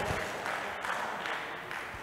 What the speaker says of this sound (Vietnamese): cho một tràng pháo tay đấy ạ